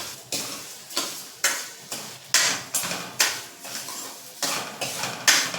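Sugar is stirred into raw mango chutney in a pot, with a spoon scraping in a steady rhythm of roughly two sharp, close strokes per second.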